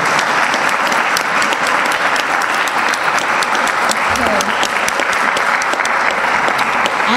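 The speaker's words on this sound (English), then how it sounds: "Let's give them a round of applause for being here today." Applause from a room of guests at a chamber legislative luncheon, loud, continuous, crisp clapping from many hands that stays even throughout, with a brief voice or cheer mixed in.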